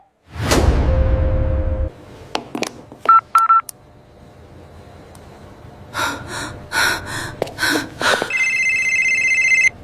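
A telephone is dialed with a quick run of keypad tones, then a ringing tone repeats at the end. Breathy rustling and a few sharp bursts come first, and no one speaks.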